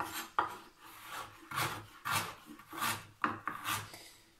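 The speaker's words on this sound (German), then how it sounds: "Jetzt wollen wir den Ingwer, den wollen wir natürlich auch ein bisschen mundgerecht schneiden." A knife cuts ginger into bite-sized pieces on a wooden board, making quiet, close, rhythmic scraping slices with soft taps, roughly two per second, no talk.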